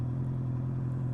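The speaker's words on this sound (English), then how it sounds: "I love that exhaust on this bike." Triumph Street Triple motorcycle engine and exhaust idling steadily up close, a loud, constant low rumble with no talking.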